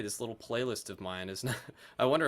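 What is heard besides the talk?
No everyday noise stands out behind the speech.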